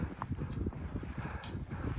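Horse hooves thud in a steady walking rhythm on soft ground, with a faint background hum and no voices.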